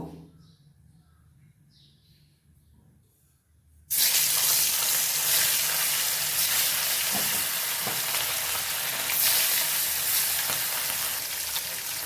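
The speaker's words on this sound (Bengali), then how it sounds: "এভাবে আমি সবগুলো মাছ ভেজে নিচ্ছি।" Pieces of katla fish drop into hot oil in a wok, and a loud, steady sizzle of frying starts suddenly partway through after a quiet start, continuing unbroken with faint stirring.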